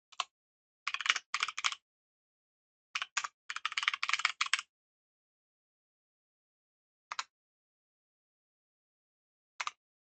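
Code being typed on a computer keyboard comes in quick bursts of clicky keystrokes separated by pauses, ending with a few single isolated presses, close and crisp in an otherwise silent room.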